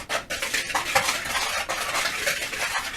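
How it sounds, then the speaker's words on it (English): Ingredients for a spiced pear-apple pomegranate pan pie are whisked in a bowl, giving steady rapid clinking and scraping against the dish, close and moderately loud with no talking. "I'm just going to whisk that together"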